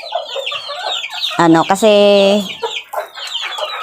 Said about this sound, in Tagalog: At ngayon naman guys ay saging na may kanin